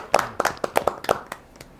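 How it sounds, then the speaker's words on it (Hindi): Audience clapping for a poet at a Hindi kavi sammelan stage event, a short burst of scattered hand claps from a small crowd, uneven and fading out within about two seconds. "इनके लिए क्यों ना हम सब ताली बजाएं"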